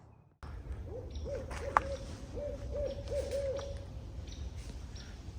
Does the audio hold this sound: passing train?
no